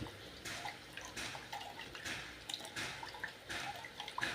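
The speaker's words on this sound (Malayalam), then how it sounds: "നമ്മുടെ പുളി ഒന്ന് പിഴിഞ്ഞെടുക്കും" Squeezed tamarind drips and splashes with liquid, faint close-up trickles and patters coming in irregular bursts, with no talking.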